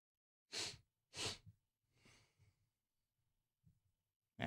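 Two sharp, close sniffs from a runny nose come in quick succession, followed by softer snuffling breaths and another sniff at the end, all quiet and with no talking.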